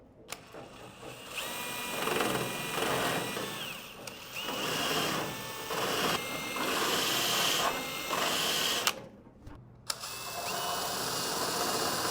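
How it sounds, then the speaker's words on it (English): Close, whining power drill bores out spot welds on a Datsun 240Z body shell, running in several sustained bursts at steady speed with short pauses and a sharp stop near the end. "we'll go with a nice steady speed and push in and drill out those spot welds"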